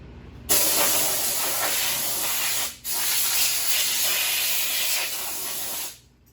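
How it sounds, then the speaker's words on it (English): Compressed air blowing out of a nozzle to clean up a motorcycle workshop, a loud, steady hiss in two long bursts separated by a brief break. "So, some compressed air."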